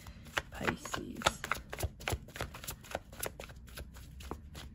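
Tarot cards are shuffled by hand close up, a quiet run of crisp riffling and slapping bursts in an irregular rhythm with no talking.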